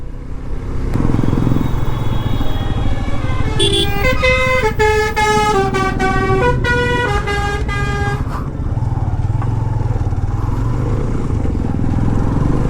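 A car horn honks loudly in a quick series of repeated blasts over the rumble of nearby engines and traffic.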